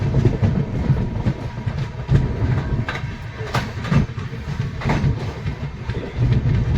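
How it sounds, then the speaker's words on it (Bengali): The Darjeeling Mail rolls slowly into Kishanganj station on a foggy early morning, with a steady low rumble and soft rhythmic clatter of wagons on the rails, continuous and close by. "ট্রেন ধীরে ধীরে কিষানগঞ্জ স্টেশন এন্টার করছে"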